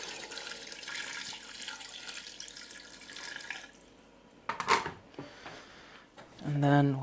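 Water runs from a tap into a cooking pot holding chicken stock cubes and spices, a steady splashing stream followed by a few clinks and handling sounds, with a person talking throughout.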